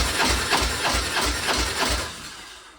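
A 1994 Harley-Davidson Dyna V-twin motorcycle engine cranking over with throttle open during a compression test, a steady chugging starter rhythm of even pulses, loud and close, tapering off at the end.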